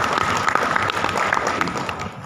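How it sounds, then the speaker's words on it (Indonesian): Audience applause at a city government ceremony honouring the mayor's national archives award, a brisk burst of clapping that fills the short span at close range. "Tepuk tangan Bapak Ibu."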